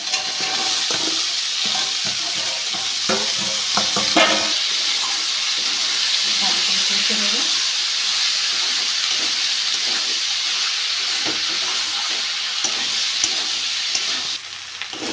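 Potatoes frying and sizzling as they go into a thick ghugni gravy of cooked-down spices and oil for aloo matar ghugni, a steady loud hiss running throughout with a few stirring clatters.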